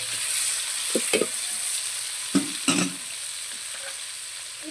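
Shallots and tomatoes fry in oil for a village-style fish curry cooked over a wood-fired stove. A steady hiss runs under a few distinct scraping stirs. No one speaks.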